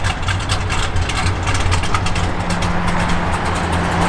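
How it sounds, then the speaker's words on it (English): A 1970 Dodge Super Bee V8 with an aggressive cam rumbles loud and close in a steady, unbroken drone with no talk. "Give a little rev, Mike."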